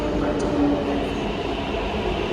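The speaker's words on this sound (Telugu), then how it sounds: "మెట్రో వస్తుంది." A Hyderabad metro train pulls into a station, its steady rumbling roar and rail hum filling the space at close range with a faint high whine near the start.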